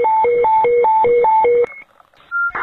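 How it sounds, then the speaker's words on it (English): Emergency alert tones over Fresno Fire dispatch radio: a loud two-pitch warble alternating rapidly for about a second and a half, then a brief gap of static and a short higher steady tone. "Go ahead and give me emergency alert tones and make working fire notifications."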